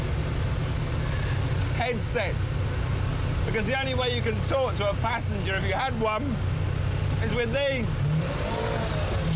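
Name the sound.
V12 engine of stripped-down car without sound deadening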